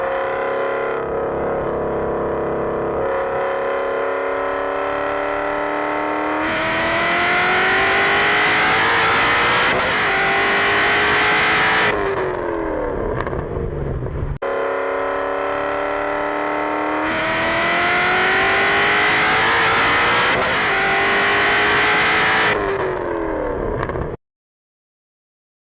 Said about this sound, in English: I actually like the sound of that car, even with the blower.